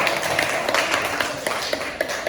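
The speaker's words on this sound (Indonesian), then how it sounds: "tepuk tangan untuk kelompok 4" A classroom group applauds a student project team presenting an Arduino build, producing a fairly soft, continuous patter of many hands clapping at moderate distance.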